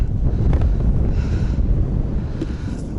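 Steady low roar of wind buffeting the microphone in the taiga, loud and constant, with a faint hint of open water in the background.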